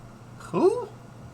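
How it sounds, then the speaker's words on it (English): A single short, weak sneeze, a brief muffled burst at moderate distance against quiet background hiss. "That's a weak sneeze."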